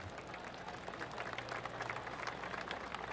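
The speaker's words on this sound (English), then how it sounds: "Oh, golf clap." Steady golf crowd applause in the video game PGA Tour 2K25, a dense patter of many hands clapping at an even level throughout.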